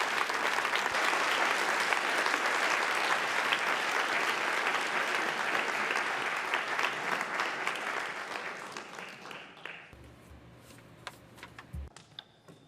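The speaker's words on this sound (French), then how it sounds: "Give them a round of applause." A crowd at a talk event applauds with loud, dense clapping that gradually thins and fades, leaving scattered individual claps and faint room noise at the end.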